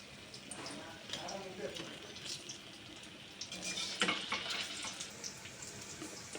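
Chili bajji, batter-coated green chilies, frying in hot oil, a soft continuous sizzle and bubbling with occasional crackles, fairly quiet and mixed with faint handling noise.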